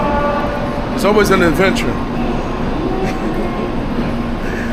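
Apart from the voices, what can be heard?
Japanese train riding on the rail system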